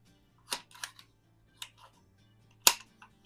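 Buck Rail Diana Chaser air gun with a suppressor, plinking in a garage: a few soft, sharp pops spaced apart, each followed by a faint click, the last one the loudest.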